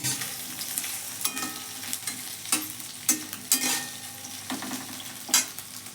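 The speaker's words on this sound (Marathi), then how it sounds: "आता आलू घ्यायचे आम्हाला तळून" Potatoes frying in hot oil with onions already browned, a continuous sizzle broken by repeated scraping stirs and clatters of the spoon against the pan.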